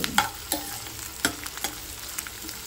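Sliced onion, green chilies and curry leaves frying in a pan, a low steady sizzle with occasional sharp spoon taps and scrapes as they are stirred, close and quiet, with no voices.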